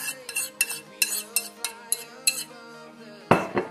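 A spoon stirs cinnamon, nutmeg, allspice, baking soda and baking powder in a bowl. Steady, rhythmic metal clinks repeat close up, ending with one sharper knock.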